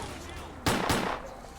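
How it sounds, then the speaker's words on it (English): Two rapid grenade explosions in the game Stalker: Clear Sky, loud back-to-back bursts a fraction of a second apart over a steady low game background. "where are all these grenades coming from?"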